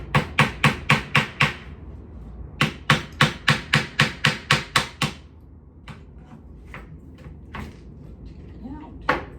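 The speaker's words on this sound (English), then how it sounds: "I'm just gonna use a little nail, make a little starter hole." A small nail is tapped with a hammer to start a hole, two quick runs of about six to eight sharp evenly spaced knocks close by, then a few lighter scattered taps.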